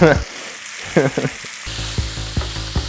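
Heavily seasoned meat sizzles and crackles in a hot pan, a steady frying hiss with a few louder pops and stirring scrapes, close and alone.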